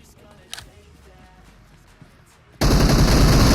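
After a quiet stretch with faint clicks and a low voice, a loud burst of sustained automatic gunfire from the video game PUBG Mobile suddenly erupts close by and continues to the end.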